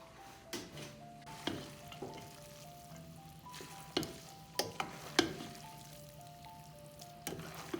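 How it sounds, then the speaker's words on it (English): A spoon stirs spicy chicken pasta sauce in a pan: quiet, scattered knocks and scrapes against the metal over a low simmering hiss, with faint steady tones behind. "Okay, we're going to give it a quick stir."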